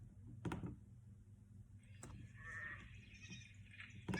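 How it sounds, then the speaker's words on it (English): A sheep bleats in short, faint cries amid quiet background rustle and a couple of soft knocks, heard alone without talking. "That is the sound of a sheep."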